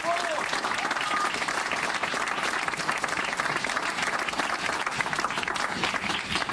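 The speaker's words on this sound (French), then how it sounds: "et on peut l'applaudir" Sustained applause from a large crowd at a municipal campaign rally for the mayor of Marseille, dense and steady clapping filling the whole stretch with crowd noise mixed in.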